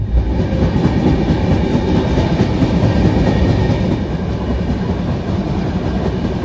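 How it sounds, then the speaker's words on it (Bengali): The Humsafar Express passenger train runs fast on the Howrah to Rourkela route, heard from inside a compartment as a loud, steady rumble with rhythmic wheel clatter and no talking. "হামসফর এক্সপ্রেস দ্রুত গতিতে ছুটে চলেছে"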